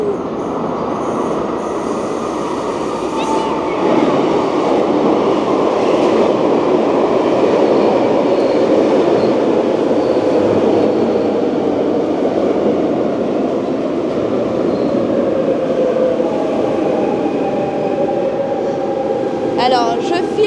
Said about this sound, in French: Ouais, c'est un train métro.